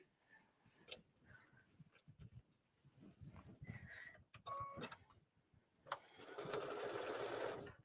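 A sewing machine stitching jeans, starting with scattered clicks and short mechanical bursts, then ending in a steady, close whirring run of rapid stitching.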